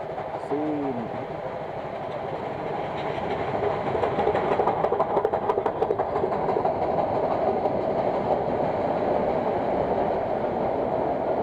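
A train rolls past on a road near Burliyar with a steady, close rumble and rhythmic clattering of wheels that keeps going throughout.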